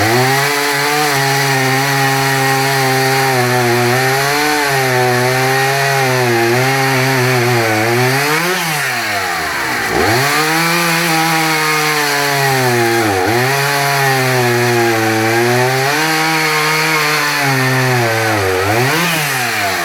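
Husqvarna 61 Rancher and Dolmar 119 chainsaws cut wood, engines roaring loud and close throughout, the pitch dipping and recovering repeatedly as the chain bites into the log.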